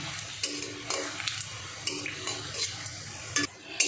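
Potato balls fry in hot oil in a pan amid a soft bubbling sizzle, punctuated by the clinks and scrapes of a metal spoon turning them, fairly quiet and with no talk.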